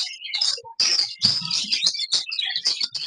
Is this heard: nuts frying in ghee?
no